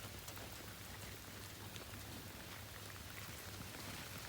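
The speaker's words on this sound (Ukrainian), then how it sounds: "Це якась стіна, дощ затяжний." Heavy, steady rain falls on a pasture where cows are being herded, a dense unbroken hiss of drops with no voices.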